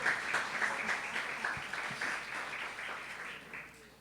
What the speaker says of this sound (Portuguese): Palmas para o nosso irmão aqui